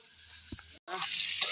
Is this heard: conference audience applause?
no